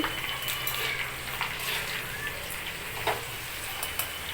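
Cashews and raisins fry in ghee with a close, crackling sizzle and a few scattered pops throughout a short stretch, with no speech.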